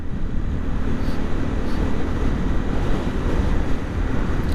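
Steady, loud roar of wind buffeting the microphone while riding a motorcycle at about 50, with a low rumble underneath, constant throughout.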